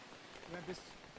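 Rain falls steadily on a mountain tepui expedition camp, a soft, even patter with a few nearby drips, faint and continuous throughout.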